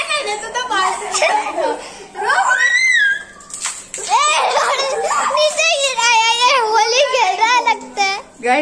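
Water poured and splashed onto a girl's hair during a rolling game, with brief splashes amid excited children's chatter, giggles and squeals close by.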